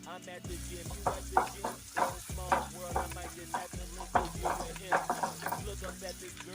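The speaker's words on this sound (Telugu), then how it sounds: "ఉల్లిపాయ ముక్కలను ఒక 2 నిమిషాలు వేయించుకున్నాక" Chopped onions frying in a pan for an eggplant and green pea curry. A steady sizzle sits under rhythmic stirring clatter that pulses every half second or so, close and moderately loud.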